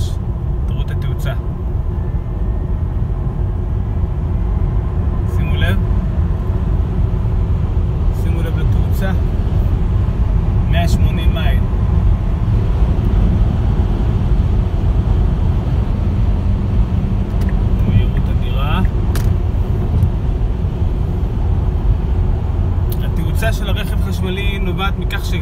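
A Tesla electric car accelerates from about 75 km/h, heard from inside the cabin as a steady low road rumble and hum with faint electric whine and no engine note, while someone speaks throughout.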